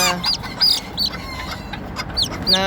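White leghorn and bantam chicks peep together in a steady, high-pitched chorus of short chirps, close and fairly loud with a soft background hum and no talking.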